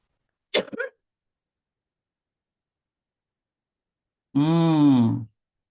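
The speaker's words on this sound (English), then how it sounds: "Nice cough." A short, sharp cough close by, followed after a few seconds of quiet by a drawn-out, groaning vocal sound.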